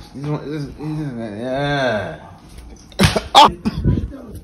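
A single sharp sneeze bursts out after a stretch of drawn-out vocalizing, close and loud, followed by a few quieter breathy sounds and a brief spoken word.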